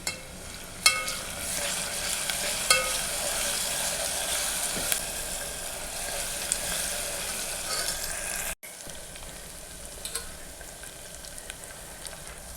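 Green chillies sizzle steadily in hot oil in a pan, a close, continuous crackling hiss with a few sharp pops and scrapes of a stirring utensil, with no voices.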